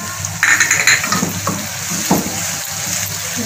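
Spices and red chili powder frying in a pan, a steady close sizzle with scattered stirring clinks and scrapes of a utensil against the pan.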